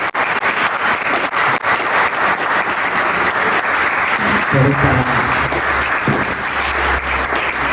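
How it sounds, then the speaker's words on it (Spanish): Audience applause for poet Alicia Genovese at a Borges-themed literary talk, a full, steady burst of clapping from a room of listeners, with a voice briefly speaking over it toward the end. "le damos un muy fuerte aplauso a Alicia"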